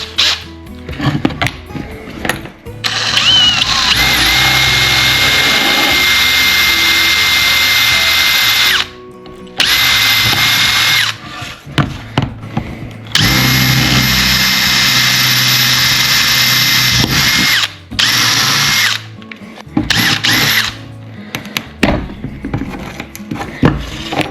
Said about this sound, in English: we'll just start working our way up through the larger bits, enlarging our hole